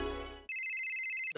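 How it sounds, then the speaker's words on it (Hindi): An incoming-call phone ringtone, a steady bright electronic ring that cuts in loud after a brief stretch of other sound and holds for nearly a second before stopping abruptly. "दया का फोन"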